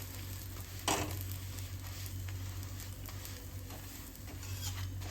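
Methi paratha cooking in groundnut oil on a flat pan gives off a steady, low sizzle that runs throughout, with one brief clatter near the start and no talking.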